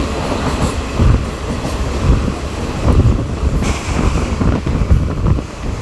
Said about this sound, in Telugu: ఒక నిమిషం హాల్ట్ తర్వాత మన ట్రైన్ తిరిగి బయలుదేరింది